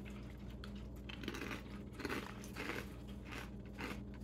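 Quiet crunching bites into crunchy peanut butter snacks from Korea, a few soft crackling chews spaced through the clip with no talking.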